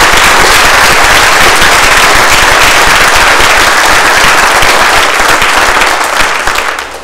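A church congregation at Maundy Thursday worship gives loud, sustained applause, a dense crackling roar of many hands that holds for about six seconds before beginning to fade.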